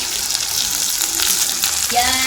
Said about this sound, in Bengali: জাস্ট আলতো হাতে একটু নেড়ে ছেড়ে নিয়ে সব সবজিগুলো দিয়ে দেবো